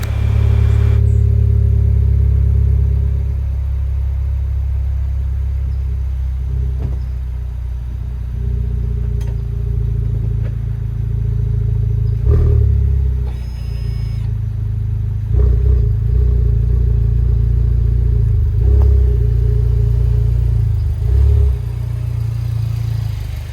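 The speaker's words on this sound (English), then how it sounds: "Just gonna move the car a little bit backwards and forwards" A 2020 Honda Civic Type R fitted with an HKS exhaust gives a steady low rumble as it creeps backward and forward, with a few soft swells in engine note and no talking.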